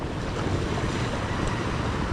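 Rough, choppy sea surging against a harbor breakwater, a steady roaring wash of waves mixed with heavy wind buffeting the microphone, continuous and loud with no voices.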